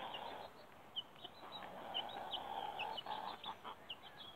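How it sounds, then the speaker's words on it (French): Two laying hens clucking softly and steadily in the background, short chirpy calls repeating at a low, distant level. "on a un parc avec deux poules pondeuses"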